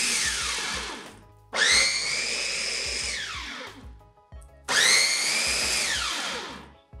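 Blender or chopper whirring loudly as it mixes a cake batter with coconut milk from half an aged coconut, in three long bursts with short pauses, the motor pitch sliding down as each run slows.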